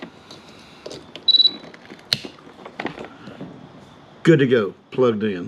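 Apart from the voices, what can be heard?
trolling motor plug beep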